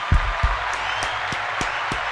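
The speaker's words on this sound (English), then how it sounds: "I'm going to go ahead and give myself a clap" A lone podcaster claps for himself, about seven slow, distinct hand claps spaced roughly evenly, close and solitary against a quiet room hum.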